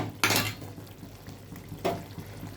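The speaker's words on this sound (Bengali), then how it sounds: "ভেজে রাখা বেগুনগুলো দিয়ে দেব।" Fried eggplant pieces tipped into a pan of hilsa fish in mustard gravy, giving two short clattering bursts, one near the start and another about a second and a half later, over a low steady kitchen hum.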